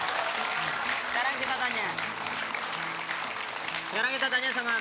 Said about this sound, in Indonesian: Tepuk tangan sekali lagi untuk Harmen